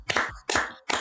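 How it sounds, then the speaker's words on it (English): Podcast hosts clapping for Frank Iero: three sharp, close hand claps spaced about half a second apart, each with a brief ringing tail, with no voices. "Give Frank Iero a round of applause."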